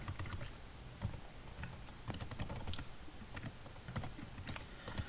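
Steady typing on a computer keyboard, with a rapid run of close, crisp key clicks at an uneven rhythm, with no voices over it.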